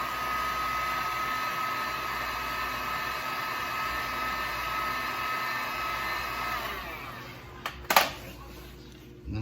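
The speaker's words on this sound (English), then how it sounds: "So what I'm using is my trusty dusty heat gun here." A heat gun blows steadily as it warms a Nissan badge emblem on a truck, a loud, even whooshing hum that cuts off near the end, followed by a few sharp clicks and taps.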